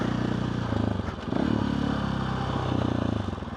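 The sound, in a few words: motorcycle with buzzy sound from the handlebars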